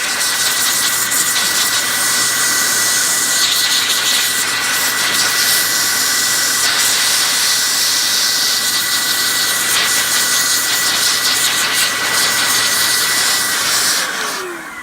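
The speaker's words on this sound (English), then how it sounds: "The Datavac electric duster. No more canned air." A Datavac electric duster blows a continuous, loud, close jet of air while cleaning keyboard parts, a steady high whooshing roar with a motor whine underneath that cuts off near the end.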